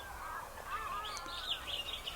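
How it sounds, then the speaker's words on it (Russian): Crows caw near the Church of the Life-Giving Trinity in Moscow, a few faint, scattered calls over a low outdoor hum with no voices. "Со стороны храма Живоначальной Троицы закаркали вороны."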